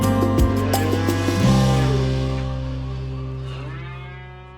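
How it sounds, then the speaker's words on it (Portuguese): Tired oxen lowing in an open countryside, a long, loud, resonant moo that swells in the first second and a half, then slowly fades away alone over several seconds. "chora no ar o mugir dos fatigados bois"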